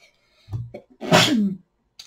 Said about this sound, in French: C'est pour ça que j'éternue.